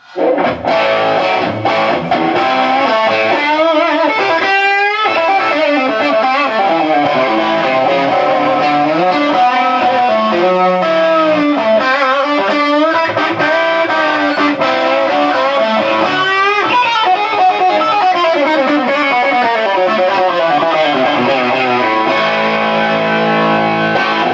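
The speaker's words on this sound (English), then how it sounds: "that is some fat distortion right there" Thick, heavily distorted electric guitar through TC Electronic distortion and compressor pedals plays continuously and loud, chords and riffs sustained with a compressed, even level throughout.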